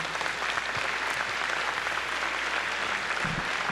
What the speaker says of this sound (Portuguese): Uma salva de palmas para os nossos jovens músicos.